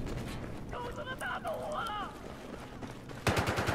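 Gunfire in Battlefield 4 on PS4 during an Obliteration match, with rapid automatic bursts rattling over a steady rumble of battle noise, loudest in a sharp volley at the very end. Someone talks over much of it.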